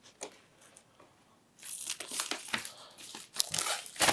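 Cellophane wrapping from a David Bowie Hunky Dory vinyl record crinkles close up, a faint tap at first, then loud sustained crackling and tearing rustles.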